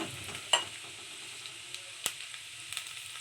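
Masala and turmeric being stirred into rice frying in a pan, a soft continuous sizzle broken by a few light scraping clicks of the spoon, close and quiet with no talking.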